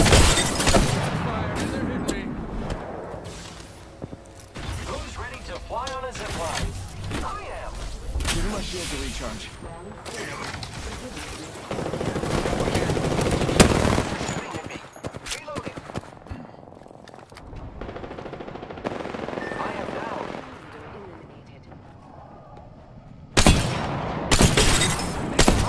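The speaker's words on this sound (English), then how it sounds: "Shots fired, and they're hitting me." Gunfire in the battle royale video game Apex Legends, on the Kings Canyon map, with repeated bursts of shots, impacts and loud bangs crowding a busy game soundscape alongside a speaking voice.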